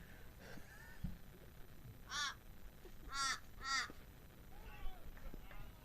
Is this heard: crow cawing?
yes